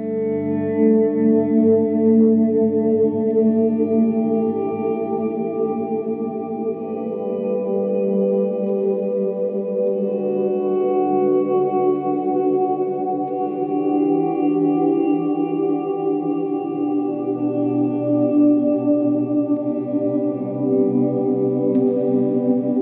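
Electric guitar played through an ambient pedalboard with delay, chorus and reverb, a sustained wash of layered, echoing notes that swells and blends continuously and loudly throughout, with no talking.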